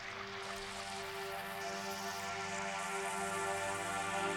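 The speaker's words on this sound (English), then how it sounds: "Let's go ahead and play our bass layer drone underneath this" A sustained synthesizer bass drone plays as a low layer in an electronic track, holding steady, even tones at a constant loud level for the whole stretch, with no voices.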